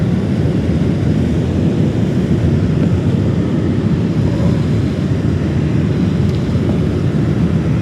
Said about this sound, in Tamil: ஆனால் இந்த ஃப்ளைட் வந்து சத்தம் குறைவு.